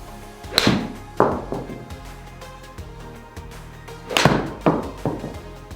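Titleist 620 MB 4 iron striking golf balls, several sharp thwacks spread across the clip, each followed by a short fading ring, fairly loud and close without talk.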